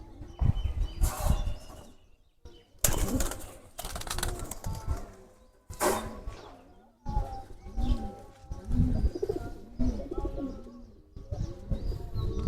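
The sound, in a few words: pigeons cooing and flapping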